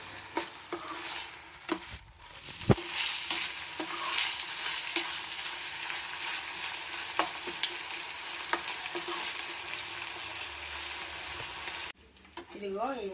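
Onions frying in a pan for a meal maker curry hiss in a steady, close sizzle for a long stretch, punctuated by periodic spatula scrapes and knocks, before the frying sound drops away near the end.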